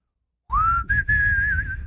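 A single person whistles the opening of a song's melody, a clear rising then sustained tone with a brief break, close and alone.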